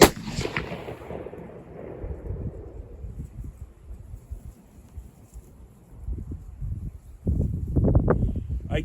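A single loud SSG-82 rifle shot cracks at the very start and its boom rolls away slowly, followed by quiet rustling and handling noise.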